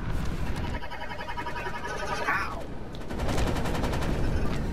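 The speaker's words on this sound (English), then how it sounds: "Why you guys shooting at me for?" Dense gunfire bursts from a Resident Evil: Operation Raccoon City co-op match, rapid shots layered with loud game noise throughout, with a player's voice talking under the shooting.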